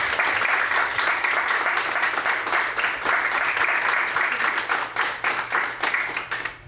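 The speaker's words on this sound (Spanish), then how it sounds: "Entonces pues un aplauso por favor a Balam." Audience at a student event in a Spanish-speaking venue gives a sustained round of applause, dense clapping close and loud throughout, fading slightly at the end.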